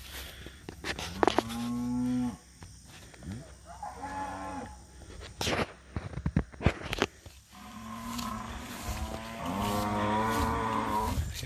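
Cattle being driven between pastures by horseback ranchers in San Juan del Río, Oaxaca, low bellowing moos repeating close by in loud overlapping calls, broken by short knocks and scuffles.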